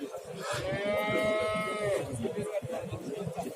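A calf moos once in a long, drawn-out call at the Özgön livestock market, rising above the steady hubbub of a crowded outdoor cattle trade with voices murmuring nearby.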